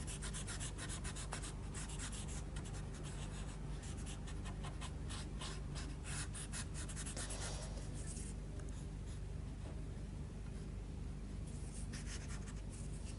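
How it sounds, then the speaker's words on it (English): A paper stump blends Derwent pastel across paper in steady soft rubbing strokes, a close, quiet, continuous scratchy friction with no voice. "We'll take our paper stump and just blend this"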